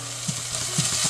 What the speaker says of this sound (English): Roast everything well until onions become soft and translucent.